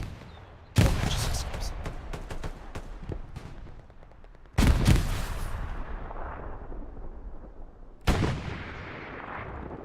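Loud bursts of gunfire and blasts fill a Hell Let Loose match on the Kharkov map, with a heavy explosion near the start, another around the middle and a third near the end, over continuous crackling shots and faint speech.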